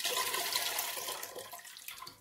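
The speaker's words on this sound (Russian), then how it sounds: "С ним будем все время новую водичку сюда заливать." Water splashes and gurgles as it is poured into a pot while cooking marinated watermelon, a close steady pour that gradually tapers off, with no voices.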